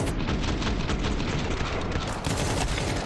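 Dense pistol gunfire in Counter-Strike during a professional match, a rapid overlapping barrage of sharp shots that runs loud and continuous for about three seconds.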